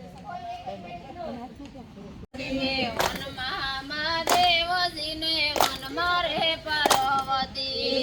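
A crowd claps along at a steady, fairly slow beat to a sung Gujarati devotional song to Mahadev (Shiva). Sharp hand claps ring out over the continuous singing voices.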